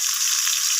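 Small shrimp frying in a pan with turmeric powder give a loud, steady, close sizzle that holds without a break for the whole brief moment, with no voices.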